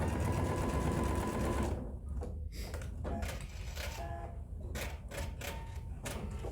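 A sewing machine stitching thin vinyl onto fabric for a slicker tote bag, a close steady whirring run that breaks off into short stop-start bursts of stitching.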